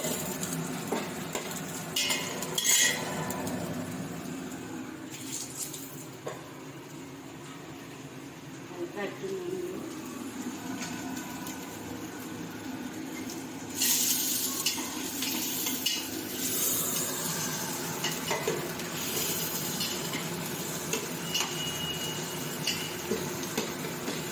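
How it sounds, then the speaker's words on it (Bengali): Chicken pulao ingredients frying in a pan, a low sizzle under clattering spoon-on-pan stirring and occasional clinks, with a voice talking over much of it. "দিয়ে একটু ভালো করে ভেজে নেবো"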